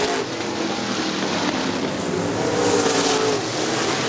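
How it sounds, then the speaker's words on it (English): Late model race cars roar around Crystal Motor Speedway in 2003, a steady, dense engine drone that holds at a constant loud level with a slight swell as the pack passes, with no talk over it. "Now it's a 3-car race for that top spot."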